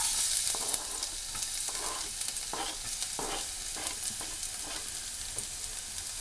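Two cloves of minced garlic frying in two tablespoons of olive oil, a steady hiss of sizzling close by with soft, regular stirring scrapes running through it.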